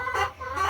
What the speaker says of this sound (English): We have 85 laying hens currently.